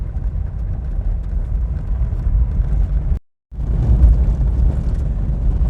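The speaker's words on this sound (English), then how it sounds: "Wow, another vehicle." Another vehicle passing on a dusty gravel road along 90-mile beach at the top of New Zealand, a loud close rumbling roar that briefly drops out and then returns, with no speech.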